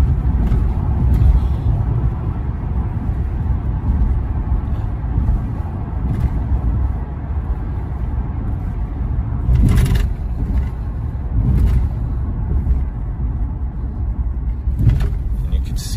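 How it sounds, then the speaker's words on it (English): Steady low road rumble from inside a moving 2000 Mercury Grand Marquis on a town avenue, with occasional thumps and rattles from bumps, continuous and fairly loud. "And you can see this car drives beautifully."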